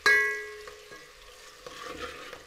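Raw onion frying in a pan while being stirred, a soft steady sizzle with faint clinks of a utensil against the metal, close and fairly quiet, with no talking.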